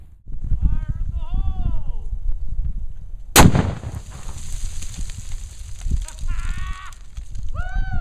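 A Star Targets reactive exploding target detonates in a single loud, sharp blast that rings off for several seconds, with people talking before and after it.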